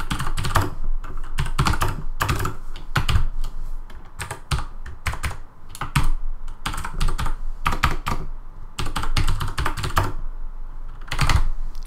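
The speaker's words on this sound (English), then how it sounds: "I'm just gonna write in just a few lines of code" Fingers type lines of code on a computer keyboard, with close, brisk bursts of clattering keystrokes separated by short pauses.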